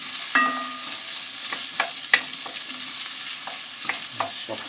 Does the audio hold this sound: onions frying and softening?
yes